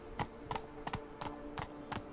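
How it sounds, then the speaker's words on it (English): A horse's hooves clip-clop across a bridge in The Witcher 3: Blood and Wine, six or seven sharp, evenly spaced hoof strikes at a walking pace, fairly quiet. "Quite difficult to manoeuvre, old Roachy here, on this here bridge."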